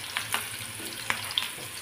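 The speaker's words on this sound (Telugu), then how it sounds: "ఈ ఆనియన్స్ ఇంతే మీడియంగా వేయించుకోవాలి." Onions frying in a pan to a medium roast for a roasted chicken dish, with a steady soft sizzle and a few sharp crackles and pops from the oil, close up and without talk.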